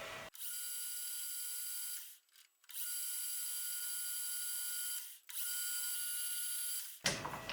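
A milling machine faces off the surface of a metal part, a steady high-pitched whine with a tonal ring, broken by two brief pauses before resuming, ending abruptly.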